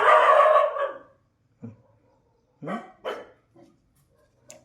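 Two dogs run out barking, a few barks in short, separated bursts after a louder opening sound, with quiet gaps between barks.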